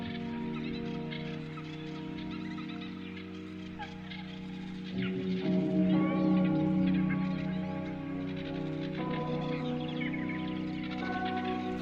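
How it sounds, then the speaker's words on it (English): Bird calls woven into a song. Faint chirps and calls sit under layered tonal music and sustained instrumental notes throughout. "I like the birds and those kind of sounds kind of playing into the Garden of Eden."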